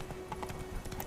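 Roach the horse's hooves clip-clop faintly and steadily in The Witcher 3, with light irregular steps set against a quiet hum and no talking.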